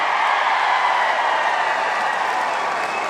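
A crowd applauds at a political speech, a dense, steady wash of clapping that stays loud throughout.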